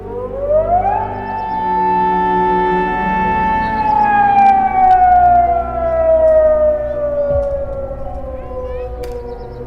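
Prison alarm siren at Alcatraz, a loud wailing tone that climbs quickly, holds, then slowly falls in pitch, sustained and alone with no talk throughout.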